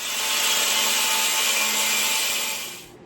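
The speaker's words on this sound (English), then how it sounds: "I'm going to get my angle grinder and we're going to get this cut off" Angle grinder cutting through a motorcycle front fender, a loud continuous high-pitched abrasive whine that holds steady for almost three seconds, then fades as the cut ends.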